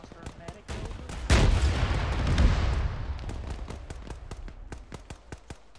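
Gunfire in a military video game firefight against a Bradley armored vehicle: a loud burst erupts, followed by a string of sharp, evenly spaced shots that gradually thin out.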